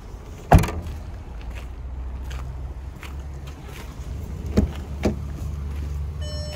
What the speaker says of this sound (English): You can fold down the back seats by pulling these two handles here.